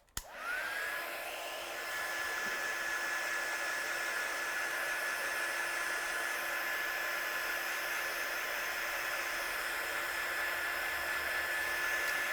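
A hair dryer or heat tool blows over stamped paint on paper, starting with a click and a rising whine. It then holds a steady, close, loud whirring hiss for over ten seconds with no talk.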